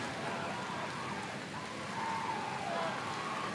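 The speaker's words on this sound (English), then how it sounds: "And now it's pouring rain." Heavy pouring rain at an outdoor baseball game, a steady broadband wash that stays loud and even throughout, with faint crowd or voice murmur underneath.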